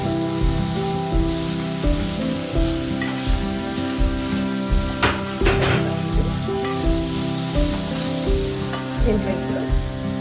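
Radish fry with masala sizzling in a pan while it is stirred, a continuous loud sizzle with regular scraping strokes and a low steady hum underneath.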